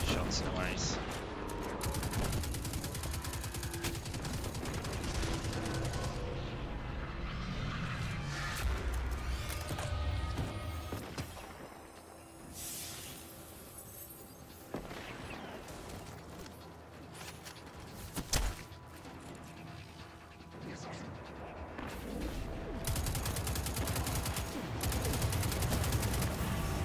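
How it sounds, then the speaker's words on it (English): Sustained gunfire rattles almost nonstop during Destiny 2 play, with sharp single sniper rifle cracks standing out from dense automatic fire and explosions, steady and loud across the whole stretch. "I'll just miss all my sniper shots"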